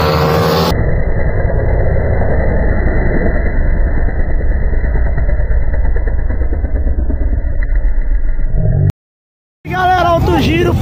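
Drag-race motorcycles at a straight-line event in Ourinhos, SP, Brazil, roar loudly and continuously for about nine seconds, then cut to silence before crowd noise and voices resume.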